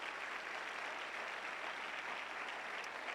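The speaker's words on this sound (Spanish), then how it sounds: "Dele un fuerte aplauso a Cristo Jesús" A church congregation at a conference applauds loudly, a dense, steady wash of clapping that fills the space evenly from start to finish, with no voice standing out.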